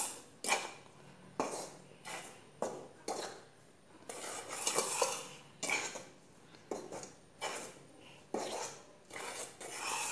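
A spoon is picked up and handled among dishes while baking brioche, making a series of irregular clinks, scrapes and rubbing knocks, close and fairly quiet, with short pauses between them.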